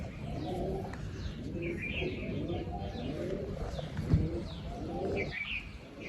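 Pigeons coo steadily and close by for the whole stretch, low rolling calls overlapping one another, with a few higher chirps scattered on top and no voices.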